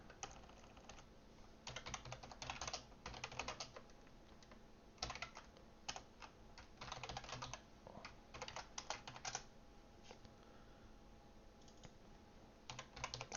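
Someone types on a computer keyboard while writing Android code, with bursts of rapid close key clicks broken by short pauses, quiet and unaccompanied by speech.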